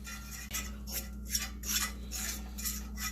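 Grandma's metal whisk scrapes and stirs flour into hot grease in a cast iron skillet, a steady rhythmic scratching and clinking that repeats about twice a second, close and fairly loud, with no talking.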